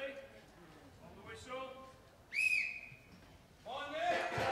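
A referee's whistle at a strongman event blows once, a short shrill blast standing out between a commentator's talk, with crowd and arena noise around it.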